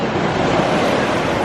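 Ocean waves wash in on a beach with big surf, a loud, steady broadband roar of churning water and wind buffeting the microphone throughout.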